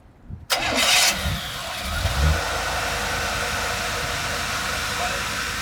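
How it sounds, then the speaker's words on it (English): A fuel-injected 1987 Chevrolet K10 lifted truck engine cranks and fires after a brief quiet moment, then settles into a steady, loud, close idle that runs to the end with no one talking. "This is a fuel injected truck, so you don't have to pedal it up to get it to run."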